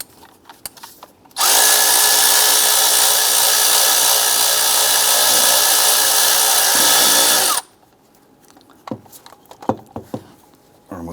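A power tool removes the 12mm center bolt from an idler pulley on a 2002-2008 Dodge Ram 1500. It gives one loud, steady whir lasting about six seconds, with clinks and handling clatter from the tool and bolt before and after.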